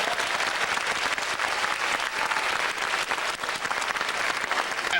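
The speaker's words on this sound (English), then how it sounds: "Let's give him a round of applause." An audience at a senior women's pageant breaks into sustained, dense applause, many hands clapping steadily at close range for several seconds with no voices standing out.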